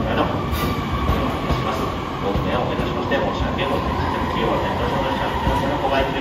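A train idles at a platform at Omiya Station in Japan with a low rumbling hum and station noise, while a voice makes a Japanese delay announcement over it.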